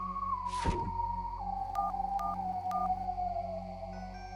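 Cartoon telephone keypad tones: a soft thump, then three short evenly spaced beeps over a steady electronic hum, quiet and clean with no voices.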